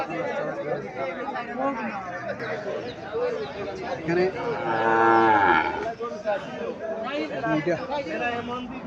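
Young bull calves at a Comilla cattle market give a loud, drawn-out moo near the middle, surrounded by busy crowd chatter and nearby talking.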